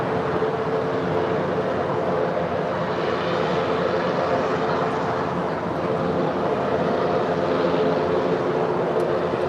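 An airliner takes off from runway 25 right at LAX, its engines producing a loud, steady, broadband jet roar that holds evenly the whole time with no voices.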